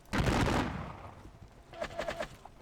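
Musket volley in a Napoleonic battle game at Dennewitz, a loud crackling burst of rippling shots at the start that fades, followed by a few fainter scattered reports, with a brief voice underneath.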